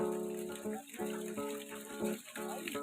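Steady water pours from a jar at a rural mountain-foot home, a continuous trickling gush with a faint tonal hum under it, close and moderately quiet.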